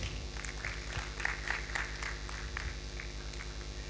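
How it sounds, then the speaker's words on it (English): Scattered audience applause at an expo presentation, individual claps popping out of a quiet hall over a low steady hum, fairly faint and distant, continuing for several seconds. "let's give a round of applause for Baraka as he joins me on stage"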